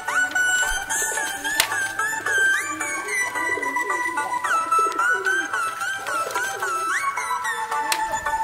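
Merpati giring keket, a racing pigeon, coos steadily and close in a long series of rolling calls throughout, alone with no talking.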